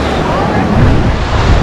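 Big ocean waves at Laguna Beach roar and wash in a steady, loud, broadband rush, with wind buffeting close to the microphone and no distinct voices.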